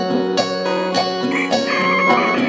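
A loud rooster crows close by, a long strained call with clucking fowl around it.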